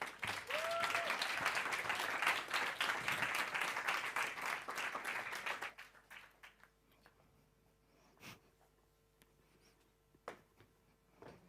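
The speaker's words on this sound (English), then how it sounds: "Can we please have a round of applause for Maya?" An audience in a theatre claps densely and loudly for about six seconds, then the applause fades to a few scattered, faint sounds.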